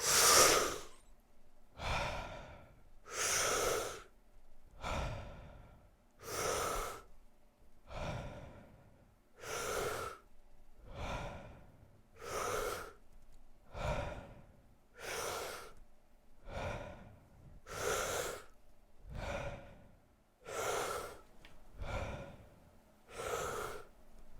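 Slow, deep breaths during a guided breathing exercise, with about fourteen to fifteen regular inhale and exhale cycles filling the stretch, each one a broad airy rush, close and steady with no talking.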